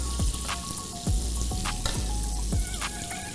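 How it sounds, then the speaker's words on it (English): Butter sizzles steadily under wahoo fish fillets in a frying pan while a spoon basting them knocks against the pan several times at an uneven pace. "So when your butter's started to melt down, get your spoon and just baste your fillets nice and gentle"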